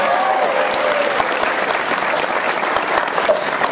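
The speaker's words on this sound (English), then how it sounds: "Make some noise for Brant" A crowd claps loudly and steadily, a dense wash of applause with some whistles and cheers mixed in.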